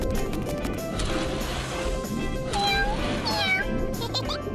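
A newborn mermaid kitten from the Talking Angela video game mews in high, bright cries, with two or three rising meows near the end over a busy, noisy background of music and effects.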